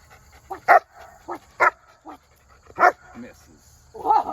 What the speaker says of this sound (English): And back to barking.